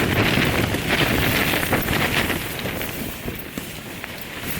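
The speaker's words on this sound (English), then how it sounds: "the wind's coming from over there" Strong wind gusts buffet the microphone outdoors at a campsite during a storm, a continuous rough roar that swells and eases slightly, with no talking.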